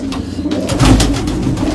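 Pigeons in a loft where young birds are kept give a brief run of low, throaty coos, close and moderately loud, with no talk over them.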